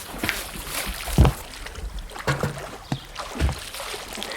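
A rowboat pushes off on a dark lake, oars or hull knocking and splashing gently in water, a few soft thuds and sloshes over a quiet, breezy background.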